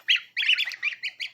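A young goose, a growing gosling raised indoors, honks and squawks in a rapid run of bright, nasal calls, then three shorter separate honks, close and alone.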